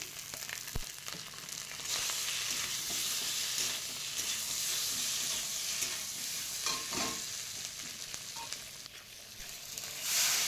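Whole spices and ginger-cumin paste fry in oil for a fish curry with drumsticks, a continuous close sizzle under repeated stirring and scraping strokes, with a few sharper clinks along the way.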